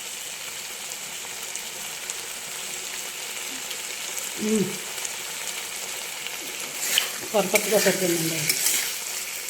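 Mutton keema fries in a pan with a constant close sizzle and occasional stirring scrapes, and a person speaks briefly over the cooking noise.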